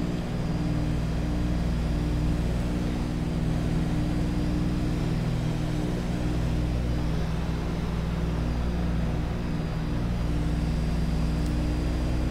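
Steady, loud drone of a 1944-built DC-3 Dakota's piston engines heard from inside the cockpit in flight, a constant low throbbing hum with layered harmonics running unbroken throughout.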